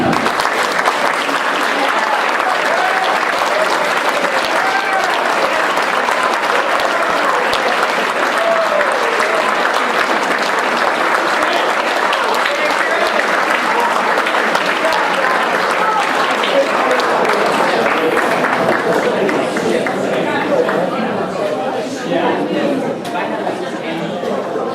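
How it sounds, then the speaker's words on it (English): A standing crowd applauds a high school team after their season, a dense, sustained wash of clapping with scattered cheers and chatter, loud and steady throughout before thinning slightly near the end. "I ask that you all please stand and join me in a round of applause"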